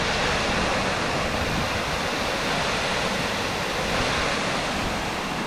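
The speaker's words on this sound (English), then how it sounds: "Looking down on the waterfall." A waterfall in the Lake District, heard from above on a steep hillside path, rushes in a loud, steady, broadband roar that continues unbroken with no talking.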